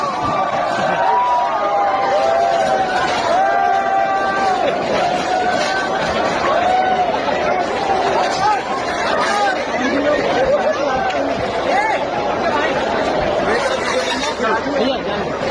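A dense crowd gathered for food at the Global Summit, a loud continuous hubbub of many overlapping voices chattering close by, with occasional chuckles in the babble.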